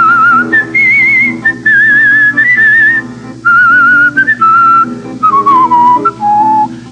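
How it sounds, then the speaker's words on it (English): Classical melody whistled solo by a competition whistler, clear pure tones moving through phrases with short pauses, close and loud with no talking. "is a great classical whistler"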